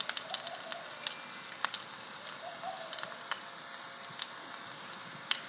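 Onion, green chili and garlic frying in a pan in a village kitchen, a steady close sizzle with scattered sharp pops and crackles, no talk.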